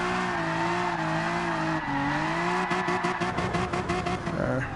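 A GT Sport race car drifts at full throttle, its engine holding a loud, steady high-revving drone with pitch dips, joined by a rhythmic pulsing tire squeal in the second half.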